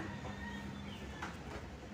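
A mixer grinder grinds chutney ingredients with pieces of coconut, giving a steady, loud motor whir with a rough, churning texture that holds without a break and has no voices over it.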